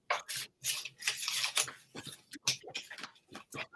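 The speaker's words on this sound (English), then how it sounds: "Just shuffling through cards for you, Brenda." A deck of cards shuffled by hand indoors, a series of quick close riffling and rubbing bursts with short pauses between them, no talk.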